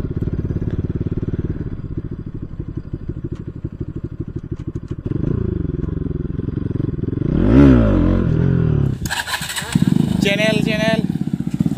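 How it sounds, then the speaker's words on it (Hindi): Loud modified exhaust of a KTM Duke 200 motorcycle on a group ride, a steady close engine drone that rises into a revving surge, then sharp crackling bursts, with voices talking over it. "ये मॉडिफाई वाला 200 में बहुत लाउड है भाई।"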